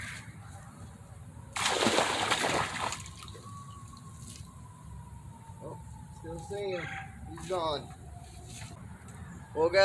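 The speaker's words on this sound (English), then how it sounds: "So let's get him back in the water now." A small creek chub released back into a shallow side creek makes a single brief splash, followed by gentle water trickling and dripping nearby, with a person speaking quietly close by.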